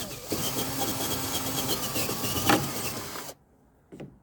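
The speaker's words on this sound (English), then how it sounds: "just drilling this last hole here" A drill boring a hole while working on a 1958 AMC Rambler Super, a continuous whirring grind with a rising pitch that stops abruptly, followed by a brief knock.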